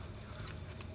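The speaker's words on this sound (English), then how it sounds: "And now I'm going to add water to it." Water poured into a pot of Goan chicken xacuti, a faint, steady splashing pour lasting about a second with no talk over it.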